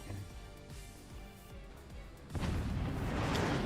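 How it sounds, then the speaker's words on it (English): Howitzer artillery fires in the RTS video game Forts, with rumbling low booms amid game noise and then a loud broadband blast that swells and sustains to the end. "Here comes the howitzer once again."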